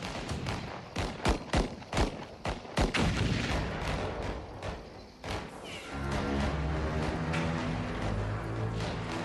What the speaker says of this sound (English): The thunder of gunfire rocks the walls of Doomsday Mountain